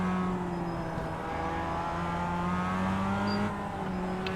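A production race car's engine drones at a steady, moderate pitch on the pace lap at Oulton Park in iRacing, with a continuous whirring hum and little change in speed or volume.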